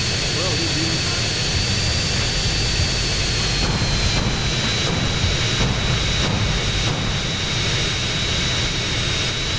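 Jet engine of an aircraft flown in Grand Theft Auto San Andreas during a flying race, a loud steady roar with a whining high tone running through the whole stretch, with no talk over it.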